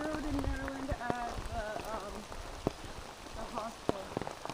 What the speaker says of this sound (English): New Jersey giving us our first taste of rain right now.